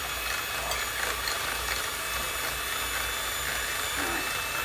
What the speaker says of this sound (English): We'll start whisking it.